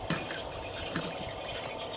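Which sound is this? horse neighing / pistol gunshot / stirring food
stirring food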